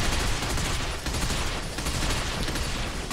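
Dense, continuous gunfire in the shooter game Binary Domain, a sustained barrage of rapid shots and blasts at close range filling the whole stretch with no pauses and no talking.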